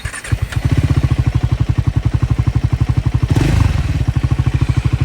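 A Triumph Scrambler 400 X motorcycle with a coolant leak starts and settles into a steady, close, evenly pulsing idle, thumping loudly with a brief rev partway through.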